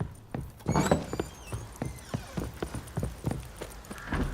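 Roach the horse galloping in the video game The Witcher 3, a steady run of hooves clip-clopping close and clear, with a snort or whinny near the start.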